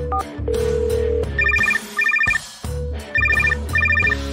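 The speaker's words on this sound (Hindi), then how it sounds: "फोन बजने की भी आवाज आ रही है" A telephone rings in repeated double bursts of bright electronic trills, loud and close, with pauses between rings and a steady tone running under the first ring, no one speaking.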